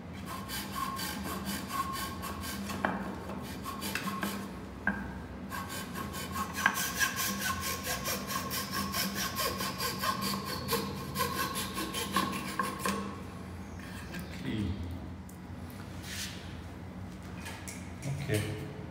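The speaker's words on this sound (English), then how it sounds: "After that, I'm just gonna use a saw. Cut out most of the material here." A hand saw cuts off the protruding leg ends of a wooden spindle short stool, giving long runs of close, rhythmic rasping strokes that pause briefly and resume.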